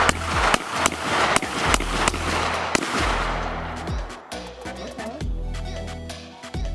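A Hi Point gun fires repeatedly outdoors, a run of loud, close, booming shots with long ringing tails, spaced irregularly and closely together, with brief faint voices in between.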